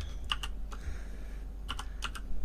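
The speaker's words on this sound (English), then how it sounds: "I'm just gonna type" Fingers type on a computer keyboard in short bursts of soft, close key clicks over a low steady hum, with brief pauses between groups of strokes.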